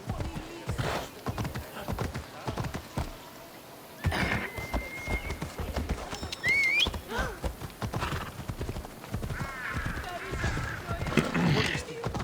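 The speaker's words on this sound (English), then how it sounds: "Horse? Horse." In Assassin's Creed Odyssey, horse hooves clip-clop at a steady trotting rhythm, and a horse neighs partway through. Game music and voices speaking Greek and English run over them.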